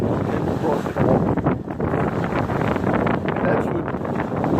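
Strong wind buffets the microphone on North Beach, a continuous loud roar and rumble that gusts and swells throughout, without a break.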